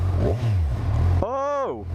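A 2014 Kawasaki Z1000 motorcycle engine runs after warm-up, a low steady idle followed by a sharp rising and falling rev, with a voice briefly heard over the start.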